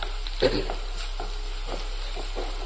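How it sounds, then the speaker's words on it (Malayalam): Fenugreek seeds and small shallots frying in oil in a pan for a Kerala-style fish curry, with a steady soft sizzle and a few brief stirring scrapes and clinks, close and moderately loud. "ഇതിലേക്ക് നമുക്ക് ചീരുള്ളി ചെറിയ ഉള്ളി ചേർത്തെടുക്കാം"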